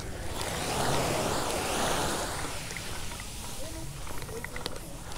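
Ocean waves wash onto the beach at Pundaquit, Zambales, a continuous close roar of surf with wind buffeting the microphone.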